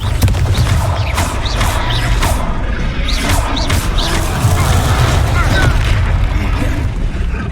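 Booming Confringo blast spells erupt during a Hogwarts Legacy video game battle, with heavy crashing impacts over dense, continuous combat noise and character voices.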